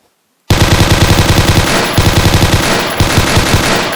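A basic automatic gun fires in a video game: loud, rapid, continuous bursts start abruptly after a brief silence, with short breaks between sustained strings of shots.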